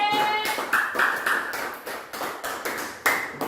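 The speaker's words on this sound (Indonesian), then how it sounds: "Kasih aplaus untuk kelompok C." Classroom applause for a student group: a burst of close, uneven hand clapping from several people, with a few brief voices and a high ringing tone mixed in.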